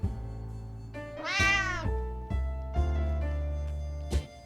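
A cat meows in the survival video game 60 Seconds, with one loud, rising-and-falling meow standing out from a steady game soundtrack.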